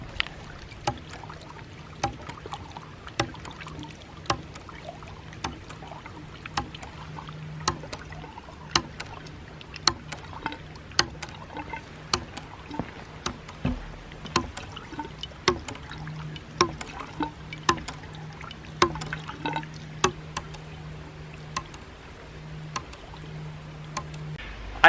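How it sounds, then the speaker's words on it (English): A ram pump with an extended waste valve cycles steadily, giving sharp rhythmic clacks roughly every second over running, splashing water, with no voices. "it is still cycling quite well and is also pumping the water, the wastewater, away from the pump itself"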